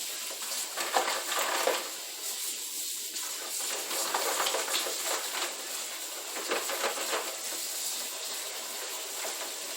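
Dishes being washed in a large kitchen sink: steady running water and hiss with soft clinks of dishes and cutlery, moderately close and continuous with no talking.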